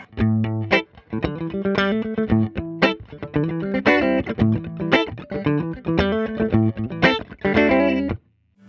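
A distorted Fender Telecaster electric guitar played through an amplifier, bright chords and notes in a rhythmic pattern with short gaps, loud and close, ending abruptly.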